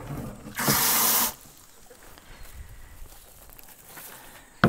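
Water pours from a tap into a container for soaking dry brown compost materials, a loud rushing burst of under a second that stops abruptly, leaving quiet handling noises.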